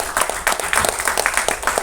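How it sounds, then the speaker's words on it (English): Applause at a trailer launch event, a short burst of close clapping from a small group, individual claps distinct and uneven, fairly loud. "Can you please give a round of applause?"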